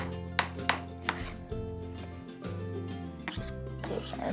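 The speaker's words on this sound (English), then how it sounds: "I'm gonna now cut it the other way. So I get nice minced" A knife chops fresh parsley on a cutting board into a fine mince, giving a handful of sharp, close taps at an uneven pace with the blade rocking and scraping between strikes.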